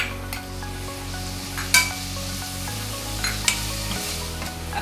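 Tomatoes are stirred and sautéed with onions and coriander in a pan for spicy prawn rice, a steady sizzle with occasional clinks and scrapes of the spoon, close and continuous over a low background hum.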